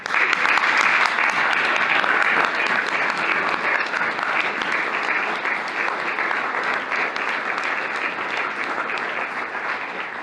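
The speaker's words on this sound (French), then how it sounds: "Alors, nous pouvons applaudir chaleureusement toutes les personnes investies." A large audience at a university investiture ceremony gives warm, sustained applause, a dense and even roar of many hands clapping that continues without a break and tapers slightly toward the end.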